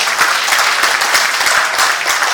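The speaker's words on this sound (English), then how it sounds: "A round of applause to Ibu Sri Mulyani" Loud, dense audience applause at a formal conference in Bali, a continuous wash of many hands clapping close by without pause.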